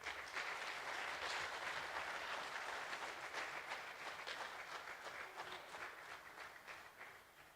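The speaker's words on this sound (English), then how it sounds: "A big round of applause" A conference audience at a business leadership forum gives a round of applause, steady, fairly faint and evenly spread, thinning out slightly toward the end.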